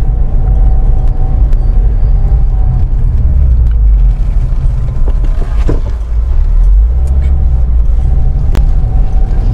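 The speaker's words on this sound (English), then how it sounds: "Hopefully it's not picking up as much road noise." Loud, steady road noise from a car in motion, a deep continuous rumble with occasional thumps and knocks from the road surface.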